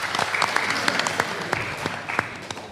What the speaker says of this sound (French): Applaudissements modérés.